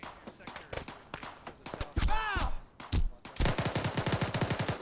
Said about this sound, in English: Hear more shots, sounds like they're coming from across.